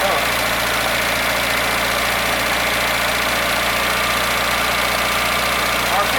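A 1981 Datsun 210 engine with a bad fuel pump idling on its own, a loud, steady mechanical drone with a low hum and faint knocking, unbroken for the whole stretch.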